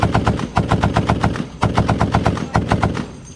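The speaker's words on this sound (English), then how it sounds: "That's why the .50 cal became more than a gun." .50 caliber machine gun fire comes in three loud, close bursts of rapid, evenly spaced shots, with short pauses between them.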